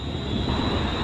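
A train passes at Clapham Junction on a chilly day, a loud, close, steady rumble with a broad hiss over it, heard alone for a brief moment.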